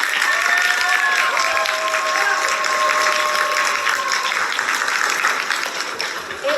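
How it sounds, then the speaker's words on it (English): Loud, continuous audience applause for both teams after a school debate, a full room clapping steadily at a strong, even level throughout, with faint tones running beneath. "please give both teams a huge round of applause."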